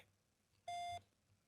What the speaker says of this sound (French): Veuillez laisser votre message après le bip.